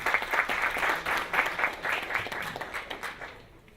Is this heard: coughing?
no